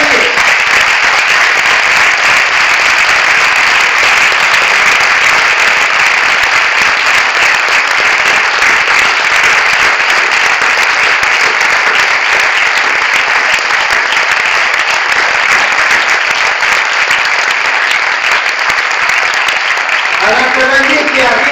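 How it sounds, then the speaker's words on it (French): A packed cinema audience at a film screening breaks into loud, sustained applause that stays dense and even throughout, with a voice briefly coming in near the end. "Je vous demande de les applaudir très très fort, Serge Toubiana et Alain Cavalier."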